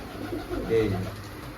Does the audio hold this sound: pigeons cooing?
yes